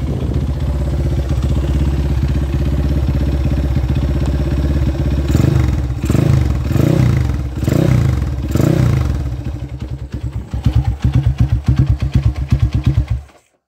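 A Honda CB motorcycle with an original NTD exhaust idles with a rough, throaty rumble, then revs in several loud bursts before settling into a sputtering, popping idle that cuts off.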